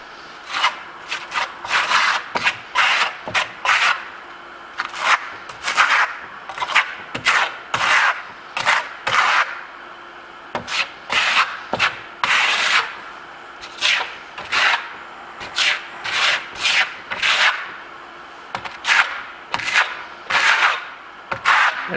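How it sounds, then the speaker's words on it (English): A steel trowel slides and rasps across a wall while spreading venetian plaster in a bi-colored marmorino finish, in steady repeated strokes of scraping rubs with short pauses between them, close and clear with no talk. "Yep, so the trowel's almost flat. It slides off."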